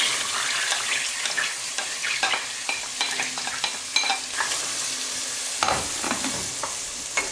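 Onions are stirred and sautéed in a pot for chicken stew. The sizzle is loud and continuous, broken by repeated scraping strokes of a spoon and short clatters, with a brief pause near the end.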